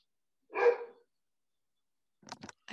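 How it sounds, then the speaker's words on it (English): A dog gives one loud bark close by, followed after a long silence by a few quick, fainter bark-like sounds or yips near the end. "I feel like that was good timing with your dog."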